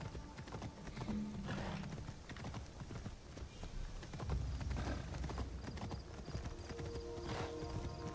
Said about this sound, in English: now we just have to ride our horse for a while.